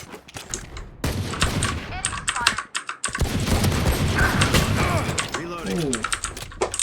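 Rapid automatic weapon fire in Valorant, bursts of shots with mechanical reload clicks between them, close and loud, with a player talking over the action.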